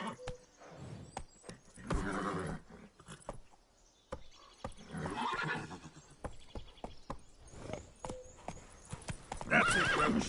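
Hoofbeats of Roach, the horse in The Witcher 3 video game, clip-clop in uneven bursts, with whinnies and snorts between them. The horse sounds are close and moderately loud, and a brief voice can be heard.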